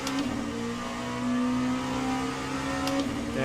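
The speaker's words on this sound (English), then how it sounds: "I also have a hypercar about to pass me" In the Le Mans Ultimate racing game, a hypercar's engine drones and whirs at a steady, sustained pitch as it closes in to pass, with a brief swell in loudness partway through.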